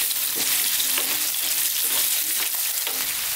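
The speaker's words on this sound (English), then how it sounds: "we're going to cook these for about 4 minutes. On a kind of above medium heat, let's just give these potatoes a nice head start." Potatoes frying in a pan over above-medium heat, a loud, steady close-up sizzle with a few stirring scrapes and no voices.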